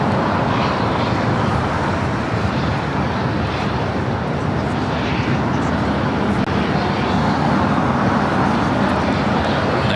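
Steady broadband roar of a Boeing 757-200 airliner on the runway at LAX, continuous and fairly loud for the whole stretch with no breaks, like engines running on the ground nearby.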